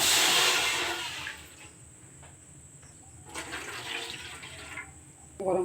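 Water is poured into a kadai set on the stove for a milk dish, starting as a loud close splashing pour that quickly fades to a faint trickle, with a brief splash near the end.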